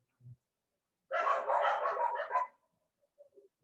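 Dogs barking outdoors, a brief yip, then a loud run of overlapping barks for over a second, trailing off into a few faint distant yaps.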